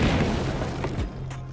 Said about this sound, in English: That damn creeper keeps blowing up my things.